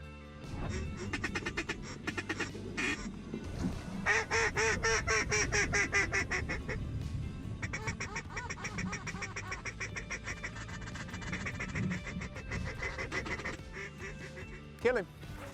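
Mallard ducks over water, with dense, continuous loud quacking and honking calls from many birds mixed with a few short sharp knocks near the end.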